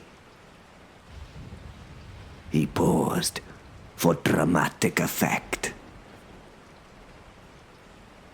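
A steady background hiss of rainfall runs through the whole stretch, low and continuous, with someone talking over it in the middle.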